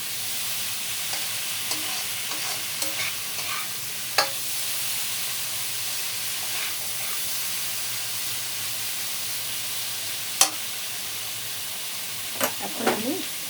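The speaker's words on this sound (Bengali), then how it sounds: "মশলা প্রায় কষানো হয়ে এসছে।" Masala spices sautéing in a pan for a fish head, prawn and red papaya curry: a continuous soft sizzle and hiss, with a few sharp spatula scrapes and clicks near the end.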